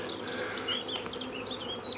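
Honey bees from a collected swarm buzz steadily at a hive frame, a dense, close insect drone with no talking over it.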